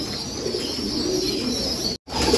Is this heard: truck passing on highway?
no